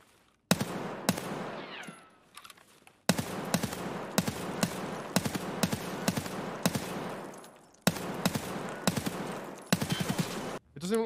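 Rapid bursts of automatic gunfire in Escape From Tarkov, sharp cracks fired in quick strings with brief pauses between groups, loud and close, with a short gap of near silence partway through.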